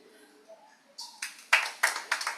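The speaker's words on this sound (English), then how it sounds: "They are clapping for you already." A small audience at a chess tournament breaks into clapping, a few sharp, separate claps building into short irregular bursts, fairly close, after faint background noise.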